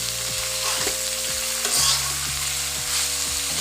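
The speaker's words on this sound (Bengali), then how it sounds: "এখন আমি এখানে বাঁধাকপি আর আলুটা দিয়ে দিচ্ছি বন্ধুরা। তো অল্প পরিমাণে কিছুটা দিয়ে আমি এখন নেড়ে চেড়ে নিচ্ছি।" Cabbage and potato frying with onions in a pan, a steady close sizzle broken by repeated scraping stirs, under a constant low hum, with no voices.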